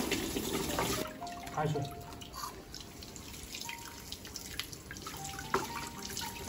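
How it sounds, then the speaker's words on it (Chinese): Tap water runs in a steady splashing stream over a freshly plucked free-range chicken in a sink, with occasional drips and small knocks. A brief spoken word comes through over the water. "再用水冲洗一下就得了"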